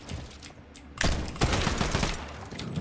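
Fortnite gunfire crackles in rapid bursts after a brief lull, a dense volley of close, loud shots with sharp repeated cracks running to the end.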